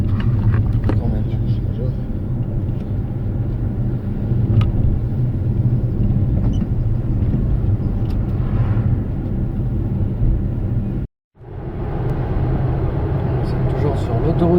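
Inside a Tesla cruising at 110 km/h on a motorway toward Paris, a steady low road-and-wind rumble fills the cabin, with a brief near-silent dropout late on and possible faint talk underneath.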